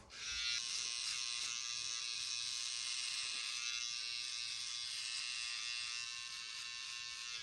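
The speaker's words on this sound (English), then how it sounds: "we got the trimmers, and then obviously, we're just gonna get rid of all this, and we're gonna shave" Electric beard trimmer buzzing steadily while shaving the beard around a goatee, a loud, constant high-pitched drone held close throughout, easing slightly toward the end.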